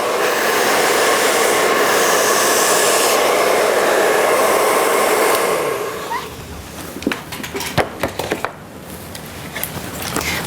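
Hair is blow-dried smooth after a cut, with a hair dryer roaring loud and steady up close for about five seconds before cutting off, leaving soft rubbing and brushing sounds.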